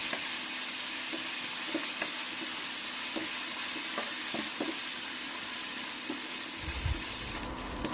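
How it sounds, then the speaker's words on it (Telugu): Dried red chillies, curry leaves and coriander fry in hot oil as a tempering for raw mango and coconut chutney, giving a continuous close sizzle with light clicks from stirring and no voices. "అలాగే కొద్దిగా కరివేపాకు మరియు కొత్తిమీరను కూడా వేసుకుని మొత్తం అన్నిటిని బాగా వేయించుకోవాలి"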